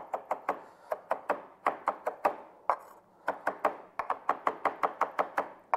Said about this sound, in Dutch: Snijden. En hakken. En zo hak je.